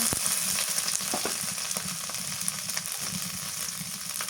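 Cumin, garlic and onion paste hits hot oil with already fried onions and chilies while a taro-stolon and dried-shrimp curry is cooked. It makes a continuous bright sizzle with soft stirring scrapes and no talking.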